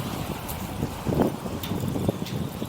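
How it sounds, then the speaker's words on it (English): Wind blowing outdoors on a village street, a continuous rough rumble buffeting the microphone with gusts swelling and easing, with no voices. "The wind's blowing."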